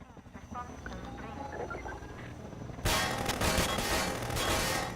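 Hunter-Chopper helicopter in Half-Life 2 bursts in loud and close after a few seconds of quieter game sounds, its broad rotor roar and buzzing din filling the rest of the stretch.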